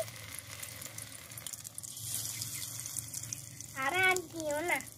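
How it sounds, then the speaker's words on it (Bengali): Masala-coated prawns frying in hot oil in a miniature pan, a steady close hiss and sizzle running throughout, with brief bursts of voices chattering near the end. "চিংড়ি মাছটা কিন্তু দারুণ ফ্রাই হচ্ছে।"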